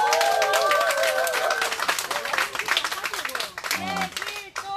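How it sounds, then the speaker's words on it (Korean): A crowd at an outdoor candlelight gathering in Seongju, Korea, claps and applauds loudly while music and a voice carry on over it, the clapping thinning toward the end. "큰 박수 한번 부탁드리겠습니다"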